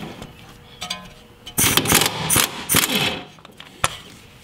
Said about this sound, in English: With a 17 millimeter wrench attached to the end link and a 16 mil socket attached to the nut,